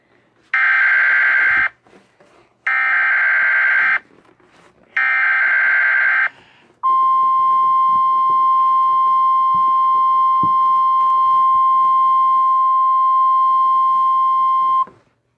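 Emergency Alert System alert tones: three loud, evenly spaced two-tone bursts, each about one and a half seconds long, followed by a long steady high attention tone that holds for several seconds before cutting off.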